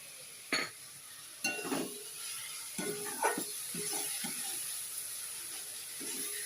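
Spice paste for a potato and duck egg curry frying in a pan, a soft continuous sizzle broken by several sharp scrapes and clinks of a spoon stirring against the metal, close and with no voices.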